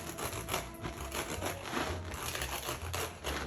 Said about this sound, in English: you take a serrated knife, cut off the top third